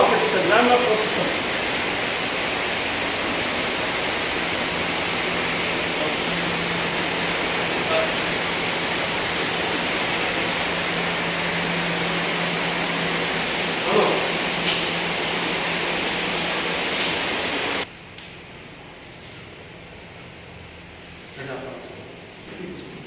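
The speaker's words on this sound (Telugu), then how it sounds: "ఈ థియేటర్ కూడా అత్యాధునిక operation theatre, laminar flow system." A modern operating theatre's laminar-flow air filtration system gives a steady, loud broadband rush of air that stops abruptly near the end, leaving quieter room tone, with a voice talking over it.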